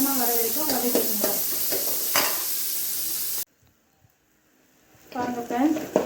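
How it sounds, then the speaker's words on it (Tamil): Chopped small onions sauté in hot oil with cinnamon and cloves for Chettinad chicken kuzhambu. A steady, close sizzle with stirring scrapes cuts out briefly into near silence, then resumes loudly. "இப்போ நம்ம கட் பண்ணி வச்சிருக்கிற சின்ன வெங்காயத்தை சேர்த்துக்கலாம். இது நல்லா பொன்னிறமாக வர வரைக்கும் வதக்கிக்கோங்க."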